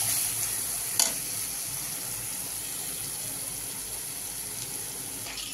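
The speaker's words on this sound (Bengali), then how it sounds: "আর একটু গলা ভাজা মতন হবে, তারপরে আমি তেঁতুলটা দেবো" Pumpkin for a sour tamarind kumro tok softening in a pan gives a faint, even sizzle, with one sharp utensil clink near the start.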